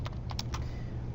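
Short burst of keystrokes on a computer keyboard while entering a CAD command, about four or five quick taps heard close up over a steady low hum.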